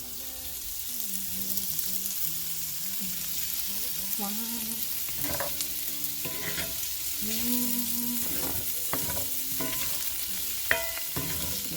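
Vegan spam sizzles steadily in a pan while a utensil stirs it, producing scraping and clinking strokes over the continuous frying hiss; the sound is close and moderately loud, with no talking.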